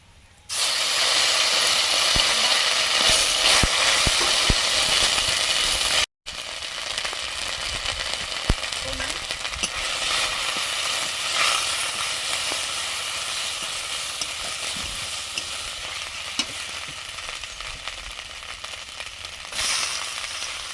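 Greens and mixed vegetables frying in hot oil with panch phoron and dried red chilli sizzle loudly and steadily, with a brief cut around six seconds before the dense crackling hiss resumes.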